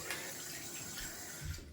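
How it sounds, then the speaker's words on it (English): Tap water running into a bathroom sink to rinse out shaving stubble and soap scum, a steady close splashing rush throughout. "Just gonna wash out a little bit down here in the sink."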